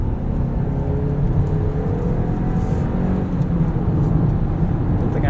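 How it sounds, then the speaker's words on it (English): Steady engine and road noise from a 2017 Volkswagen Golf Alltrack TSI SE manual wagon accelerating, heard from inside the cabin as a continuous low rumble and whir that holds loud and even throughout. "Let's test some acceleration here."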